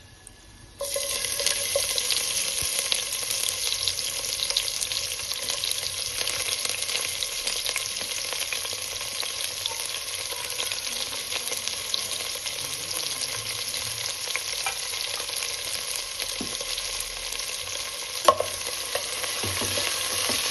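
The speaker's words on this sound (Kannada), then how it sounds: "ಈಗ ಎಣ್ಣೆ ಕಾದದ. ಇದಕ್ಕೆ ಉದ್ದಿಗೆ ಹೆಚ್ಚಿದ ಈರುಳ್ಳಿ ಹಾಕೊಳ್ಳೋಣ, ಉಳ್ಳಾಗಡ್ಡಿ ಹಾಕೊಳ್ಳೋಣ್ರಿ." Chopped onions hit hot oil with a sudden sizzle, then fry steadily in a pot for a jackfruit mushroom biryani, producing a loud, even crackle that runs unbroken and close for the whole stretch.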